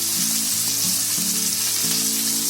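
Fish fries in oil on a flat pan with a steady, close, crackling sizzle that continues unbroken, over a low tonal hum and with no voices.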